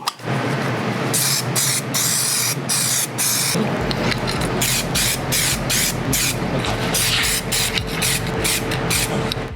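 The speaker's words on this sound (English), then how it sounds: "hit this with some POR-15 self-etching primer on any areas that went down to bare metal" POR-15 self-etching primer is sprayed from a can onto bare metal of a housing, with a run of loud hissing bursts in quick, irregular pulses and a rattling mechanical rhythm underneath.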